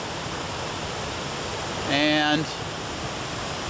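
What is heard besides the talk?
flood water rushing into a pond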